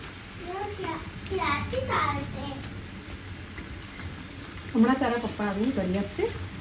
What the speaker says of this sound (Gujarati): એ બે સમોસા છે તો બસ અહીંયા હું તળી દઉં